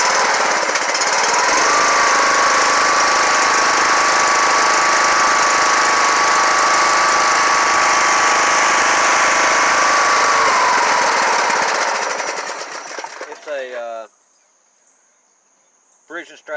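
A Briggs & Stratton 16 horsepower overhead valve engine on an LT1000 lawn tractor with a 38-inch deck runs at a steady loud idle, then cuts off and goes quiet.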